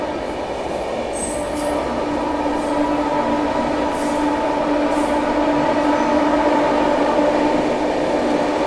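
The Kolkata Duronto Express runs through Tundla Junction at a fair speed with a loud, continuous rumble of wheels on track. Steady tonal hums and high, repeated metallic squeals of the wheels sound from close by.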